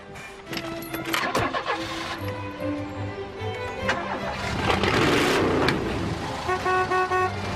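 An old truck engine cranks and turns over, sputtering into a rough idle amid a busy road scene, with a short horn toot and other traffic noise, close and fairly loud.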